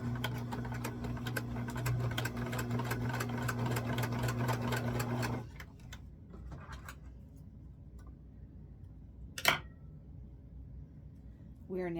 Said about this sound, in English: we're going to sew straight across